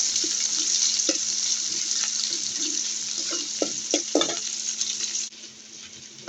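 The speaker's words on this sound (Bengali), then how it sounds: "পেঁয়াজটা আমি ভালো করে ভেজে নেব" Onions frying in a pan, a loud, continuous sizzle with scattered clicks and scrapes as they are stirred. The hiss drops noticeably near the end, with no talking.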